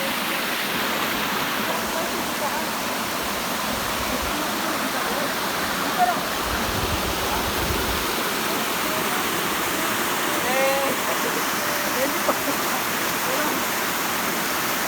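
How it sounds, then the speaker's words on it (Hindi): Waterfall in the Bag Madha forest, a steady, close rushing roar of falling water that continues throughout, with faint sounds of people in the background. "ये है झरना का नज़ारा।"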